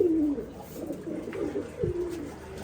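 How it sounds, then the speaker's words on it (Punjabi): Pigeons coo nearby in low, soft, rolling calls, several overlapping over a steady background hum. "ਆਹ ਕਬੂਤਰ ਬੋਲਦੇ ਵੀ ਪਏ ਆ"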